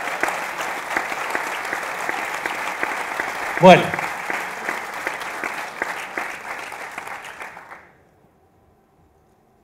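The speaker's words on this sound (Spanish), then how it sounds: "les pido un fuerte aplauso para sacar un poco" An audience claps steadily for several seconds, a brief word spoken over it, then the applause fades out into silence.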